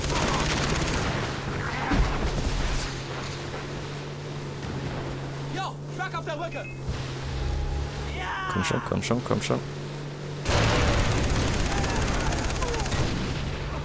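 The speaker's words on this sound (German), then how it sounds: "ich schieße hier jetzt die ganze Zeit irgendwie so irgendwo hin" Gunfire in the video game Far Cry 3 during a boat sequence, with bursts of shots and loud blasts over a steady engine drone while someone talks throughout.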